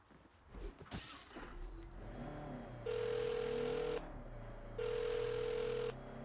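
Two long electronic phone ring bursts sound during a call in Saints Row (2022), each about a second long with a pause between, following a short crash and some game sound.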